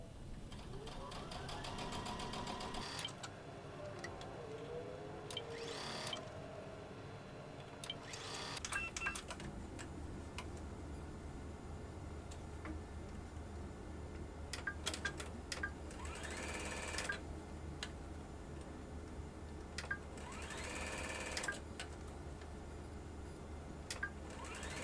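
A sewing machine stitches around a fabric carrot Easter bag, whirring steadily in runs with brief stops and restarts, while a person talks throughout.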